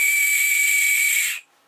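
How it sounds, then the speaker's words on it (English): A homemade 3D-printed survival whistle blown once, hard and close, giving a single shrill, breathy high-pitched blast about a second and a half long that cuts off abruptly, with no talk. "So there's a look at this whistle, survival whistle. Just blow it once more."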